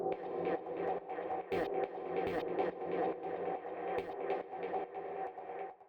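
A layered electronic synth part from a raw, hypnotic techno track made with Ableton plays steadily with sustained chords and pulsing rhythmic accents, full and continuous throughout, with no voices.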